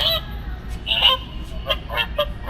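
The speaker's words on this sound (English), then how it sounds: "You can hear the goose here" Motion-activated Halloween goose decoration giving a string of loud, nasal electronic honks in quick uneven bursts, close by over a low store hum.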